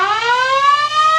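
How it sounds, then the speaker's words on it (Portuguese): Wailing SAMU ambulance siren, a loud rising tone with strong harmonics sweeping upward and holding, heard alone without voices. "Isso aí é a ambulância do SAMU"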